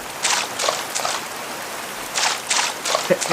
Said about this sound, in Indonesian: ini sound effect hujannya keren loh ini game